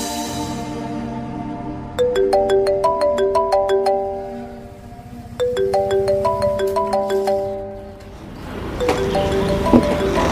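A cheerful phone ringtone melody plays in repeated bursts of bright plinking notes, loud and close, pausing briefly between rings over faint background hiss.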